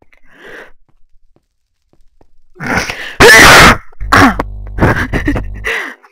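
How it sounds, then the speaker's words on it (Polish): One loud, close sneeze bursts into the microphone during a game session, preceded by a sharp, breathy inhale. Afterward come groaning, sighing vocal noises over a steady low hum. "Aj mi się kichło."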